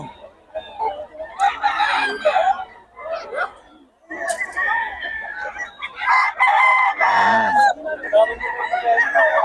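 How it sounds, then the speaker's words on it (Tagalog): Several roosters crow one after another, loud and close, with hens clucking and chattering in the background. "Puro solid manok ni Boss Perry"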